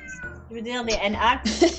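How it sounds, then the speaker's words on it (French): A cat meows several times in a row, rising and wavering calls close to the microphone, mixed with French speech from players at a Dungeons & Dragons 5th edition tabletop role-playing session. "C'est un chat."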